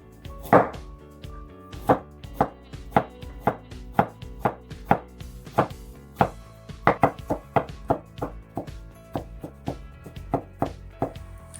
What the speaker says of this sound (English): So I need to chop it somehow.